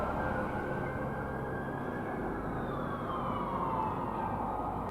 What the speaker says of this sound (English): this is literally like the third set of sirens I've heard